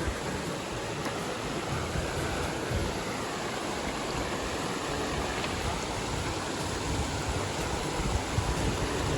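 Continuous rushing of the Regrig River, a steady broad hiss with no pauses, close and fairly loud.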